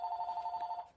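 A telephone rings with a steady, rapidly pulsing electronic trill, faint and brief, then cuts off.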